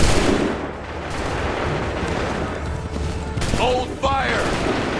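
Musket volley gunfire in Assassin's Creed 3, a dense continuous rattle of shots and battlefield rumble with sharper reports near the end, heard alongside shouted commands.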